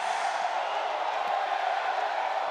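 A basketball arena crowd at an Oklahoma State vs. UCF men's game reacts to a missed shot with a sustained, even roar of voices, distant and unbroken throughout.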